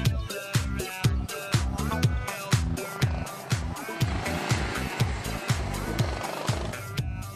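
Go-kart engines racing on a small outdoor karting circuit, a loud, steady buzzing whine with rhythmic pulses as karts pass close by repeatedly, no talk.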